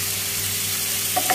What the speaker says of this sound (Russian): Сейчас вот жарю.